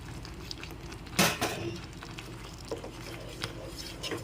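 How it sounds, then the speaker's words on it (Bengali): Yogurt being stirred into shahi paneer gravy in a pan, heard as a sharp clank of a spoon against the pan followed by softer, intermittent scraping and tapping strokes. "এখন ভালো করে নেড়েচেড়ে মিশিয়ে নিচ্ছি"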